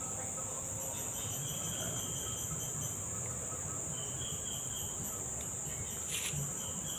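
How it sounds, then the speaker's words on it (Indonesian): Crickets chirp steadily in an outdoor land setting near a home, a continuous high-pitched trill that stays constant throughout, with faint background rustle and no talk. "jangkrik,"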